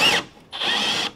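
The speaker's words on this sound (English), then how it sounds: "This is the first drill that Andy has ever operated with a drill bit, removing a rivet." A power drill bores out a pop rivet on a 1957 Chevy, with two close, whining bursts, a short one and then a longer steady spin.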